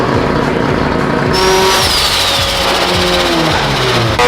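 A rotary-swapped Mazda Miata runs hard on a dyno, a loud, buzzy, high-revving engine note holding steady and close for a few seconds with a rising whine partway through and no voices.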